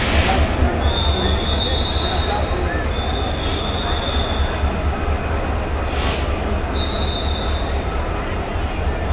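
A train rumbles steadily at Kamalapur railway station in Dhaka, with loud continuous rolling noise and high, drawn-out wheel squeals returning several times, plus sharp clanks.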